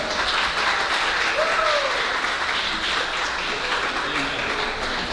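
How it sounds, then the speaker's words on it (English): A live gospel music event crowd keeps up a steady, full round of applause throughout, with a voice briefly rising over the continuous clapping. "Let's give a round of applause for that."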